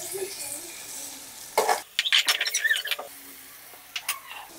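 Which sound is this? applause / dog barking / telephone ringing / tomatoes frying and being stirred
tomatoes frying and being stirred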